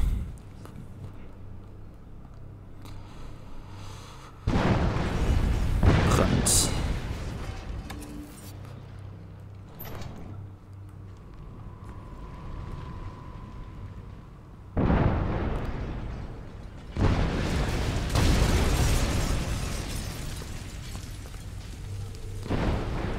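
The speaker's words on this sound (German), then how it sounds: "Explodiert echt so einiges." Explosions going off in the stealth action game Hitman Absolution, with several loud, broad booming bursts separated by quieter stretches. Each burst is followed by a short rumbling tail.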